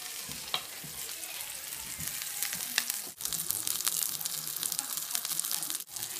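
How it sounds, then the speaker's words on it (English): Food frying in a hot pan on a home kitchen stove, a steady close hiss of sizzling with scraping and stirring clicks running through it, and no voices. "Nice hot sizzle. That's how you know it's cooking."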